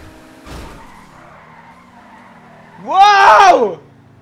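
A car in Grand Theft Auto V gives a short engine burst followed by a loud, wavering tire skid squeal lasting under a second, clear and close against quiet game ambience.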